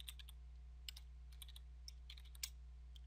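Code being typed on a computer keyboard: scattered light key clicks, some in quick bursts, fairly faint over a steady low electrical hum, with no talking.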